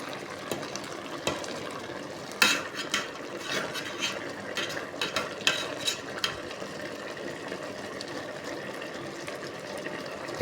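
A lid goes onto a cooking pot of pumpkin tops and pumpkin fruit simmering in coconut milk, making one sharp metallic clink amid a steady bubbling and light kitchen clatter.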